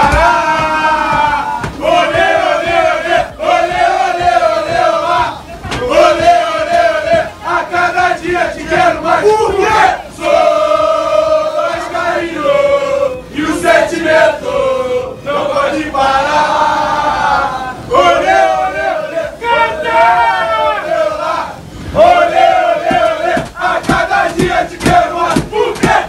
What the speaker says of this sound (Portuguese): É torcida do Vasco, como é que vai aqui?